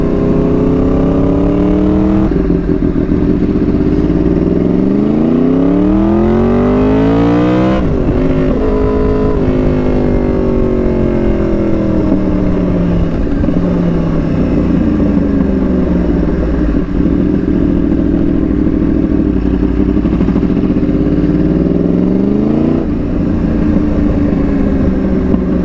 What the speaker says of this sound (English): We're riding a killer R1